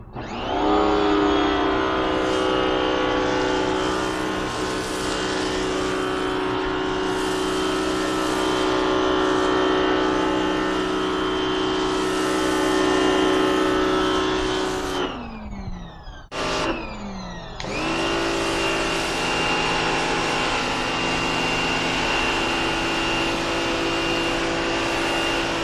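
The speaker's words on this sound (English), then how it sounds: "We've got the dip foam system attached to our power washer. It's an 1800 PSI power washer." An 1800 PSI power washer with a dip foam attachment sprays snow foam onto a car, a loud, steady motor drone with a hissing spray that cuts off briefly, sputters, and restarts.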